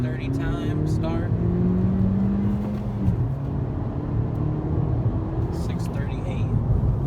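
A 2018 Honda Civic Si accelerates hard through second gear in a 0 to 60 run, its engine droning and climbing in pitch from inside the cabin before the note shifts and settles, while people talk over it.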